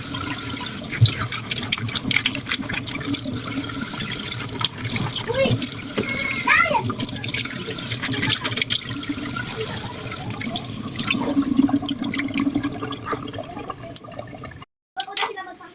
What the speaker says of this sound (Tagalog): Hugas din natin yung pipino. So, hinugasan ko na ito.